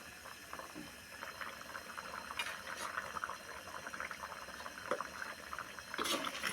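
Mutton bone soup (charu) simmering in a pot, giving a soft, steady bubbling with scattered small pops and a few louder splutters, close by and fairly quiet.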